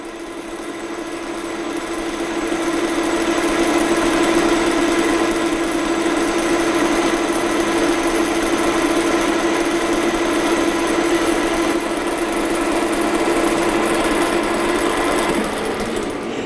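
A metal lathe runs during fitting and turning work, a continuous loud mechanical hum with a steady tonal drone that swells in over the first few seconds and holds evenly, with no speech.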